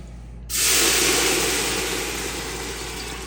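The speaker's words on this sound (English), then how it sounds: "I will go ahead and add my water." After a brief quiet moment, a sudden loud, steady rush of hissing, splashing water pours into a cooking pot for corned beef, continuing and slowly easing in intensity.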